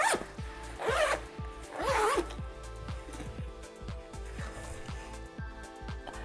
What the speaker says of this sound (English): After unzip it, it will turn into a portable baby crib right away.